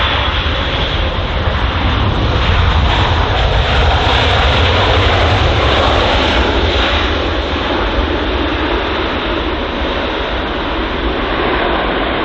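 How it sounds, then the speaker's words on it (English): An Egypt Air jet taxis at London Heathrow, its engines giving a steady, loud, broad roar that holds unbroken for the whole stretch. "So the Egypt Air aircraft just taxiing in front of us."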